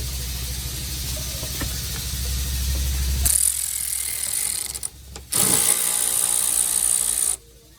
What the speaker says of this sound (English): Takes a socket 10 right up in there.